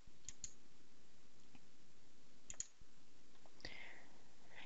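Sharp mouse clicks on the Assign button in STAAD.Pro structural software, a few isolated taps spaced over a quiet room background with no talking.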